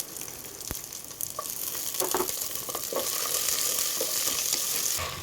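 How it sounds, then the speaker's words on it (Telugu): Dry red chillies, curry leaves, onions and garlic fry in hot oil for tomato dal, a dense continuous crackle with scattered pops and stirring scrapes, close and steady with no talk. "తర్వాత ఎండుమిర్చి, కరివేపాకు, ఎర్రగడ్డలు, తెల్లగడ్డ వేసుకొని బాగా మిక్స్ చేసుకోవాలి"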